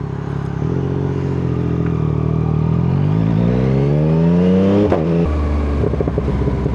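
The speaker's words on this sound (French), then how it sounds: "Oh là là là là, le pot qui crépite." A BMW S1000 XR motorcycle revs and its exhaust crackles, the engine note climbing steadily then dropping off into sharp popping bursts, loud and close, with no voices over it.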